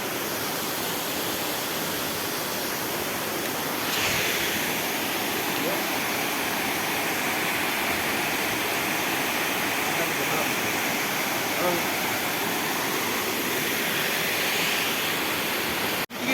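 Steady roaring rush of Machha Kandana waterfall in Mayurbhanj, Odisha, a constant broad wash of falling water heard up close with no pauses.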